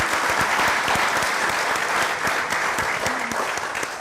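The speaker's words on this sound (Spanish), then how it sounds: "Un aplauso," Sustained, dense applause from an audience welcoming a guest to a talk on nature and the future, steady and full throughout with no voices above it.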